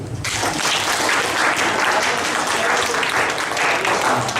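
Classroom applause during a teaching session, a steady dense patter of clapping from a group that starts abruptly and holds at an even, fairly loud level throughout.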